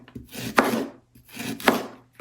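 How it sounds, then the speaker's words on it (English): Knife chopping the white parts of vegetables on a board for a vegan potato soup: two distinct scraping, crunching strokes heard close and clear, separated by a brief pause. "I'm just going to chop the white parts up here"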